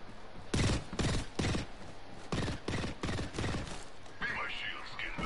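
Video game shooter gunfire: loud bursts of rapid shots come in several separate volleys, close and punchy, with a brief pause midway and a higher whirring tail near the end.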